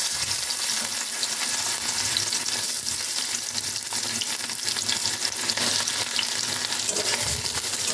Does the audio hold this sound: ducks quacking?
no